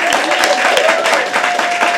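A poetry open mic audience claps in a continuous burst of applause, dense and steady throughout, with no distinct voices standing out.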